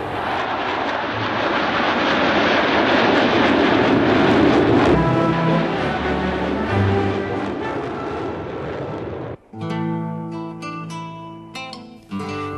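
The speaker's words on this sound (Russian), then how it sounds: "ни одна пилотажная группа на тяжелых истребителях фигуры высшего пилотажа такой сложности не показывала" Heavy fighter jets of the Russian Knights aerobatic team roar loudly overhead in a sustained, broad engine rumble that swells and then cuts off abruptly, followed by a quieter passage.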